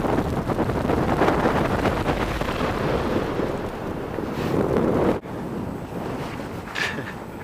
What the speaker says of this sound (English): It's a bit windy, eh?